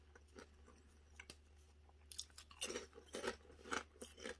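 Someone bites and chews Lowery's microwave pork rinds up close, with a series of loud, crisp crunches growing denser toward the end.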